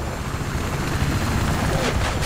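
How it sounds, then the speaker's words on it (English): A helicopter in a video game roars continuously with dense rotor and engine noise, loud and sustained throughout, mixed with game sound effects. "Die, helicopter."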